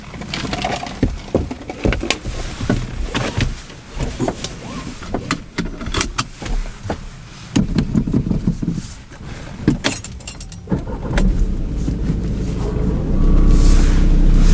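A learner driver's car pulls away from the kerb during a driving lesson, its engine rising in a steady hum, with clicks and small knocks from inside the cabin and a louder low rumble building at the end.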